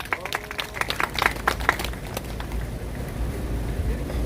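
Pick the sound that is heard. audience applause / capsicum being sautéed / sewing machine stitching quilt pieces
audience applause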